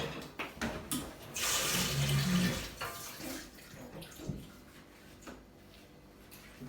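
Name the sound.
pouring water for bread dough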